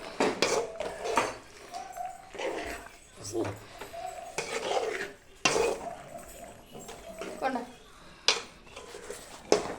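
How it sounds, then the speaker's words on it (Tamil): Pasta gets stirred in a metal pot with a utensil, giving intermittent scraping and clinking knocks in a home kitchen. A voice talks between the strokes. "பாஸ்தாவை கிண்டி விடணும்."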